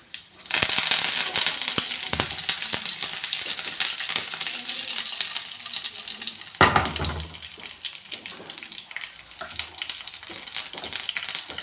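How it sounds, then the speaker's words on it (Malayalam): Dried red chillies and curry leaves fry in hot oil for a beetroot pachadi tempering: a loud, continuous crackling sizzle that flares sharply partway through, then settles into steady spitting. "ഒരു 3 വറ്റൽമുളക് ഇട്ട് ഒരു 2 തണ്ട് കറിവേപ്പിൻ്റെ അരിയും കൂടി നമുക്കിടാം"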